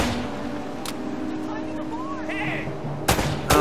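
Gunfire from the Uncharted: Drake's Fortune video game, two sharp shots near the end over a steady game soundscape with low hum and faint chirping tones.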